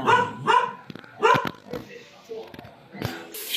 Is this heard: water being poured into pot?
no